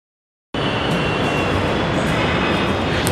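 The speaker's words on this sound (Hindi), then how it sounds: "देखो भाई ये तो जा रही है मेट्रो" After a short silence, a loud, steady rumbling roar of a Delhi Metro train passing close by on an overbridge fills the rest of the clip.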